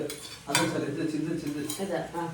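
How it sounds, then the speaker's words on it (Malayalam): A spoon stirs Boost powder and cream together in a dish, clinking and scraping against the sides in quick uneven strokes, close and fairly clear, with some voice in the background. "അപ്പോൾ ഇതിനെ നന്നായിട്ട് മിക്സ് ചെയ്യണേ, ബൂസ്റ്റും ക്രീമും"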